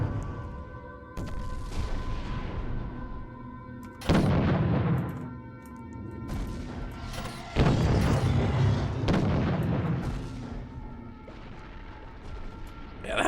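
Booming ship cannon volleys in Treasure Planet: Battle at Procyon, a few heavy broadside bursts rolling out at intervals over a low humming background, fairly distant and weighty.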